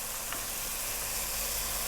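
Carrots tossed into a hot pan for a Filipino ginisang upo stir-fry with white pumpkin and shrimp, giving a steady, close broadband sizzle with a brief soft clatter near the start and no talk.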